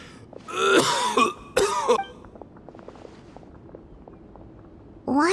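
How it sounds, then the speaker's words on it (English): A Genshin Impact character coughs in harsh, raspy bursts: two loud fits close together, then a quiet stretch of faint footsteps and small movements, and another cough starting at the end. "Why is he coughing so much?"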